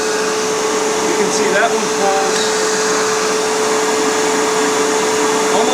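An American-made Riccar vacuum cleaner runs steadily during a suction test, a loud constant whine and airflow roar with a sustained tone, while someone speaks briefly over it.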